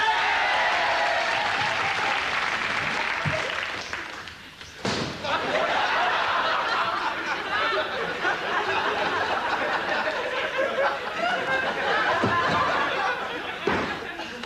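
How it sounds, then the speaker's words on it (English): Loud audience applause from a studio crowd, sustained clapping with a brief dip partway through and some laughter mixed in, continuing strongly to the end. "I just think he deserves a round of applause."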